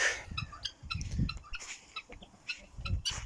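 Chickens clucking in short, repeated bursts nearby, with several chickens and guinea fowl calling over one another in a farmyard.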